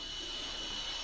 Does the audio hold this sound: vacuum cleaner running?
yes